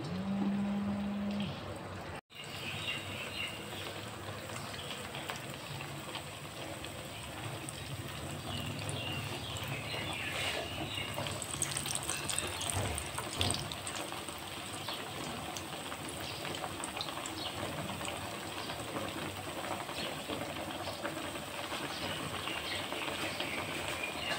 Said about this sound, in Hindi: अब इनको मैं 1 बाय 1 फ्राई कर लूँगी।